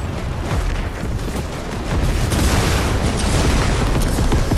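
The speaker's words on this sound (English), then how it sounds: "Those bombs are exploding." Bombs exploding in the video game Fortnite, a dense, continuous roar of booming blasts that swells louder partway through, heavy and close with no clear gaps between detonations.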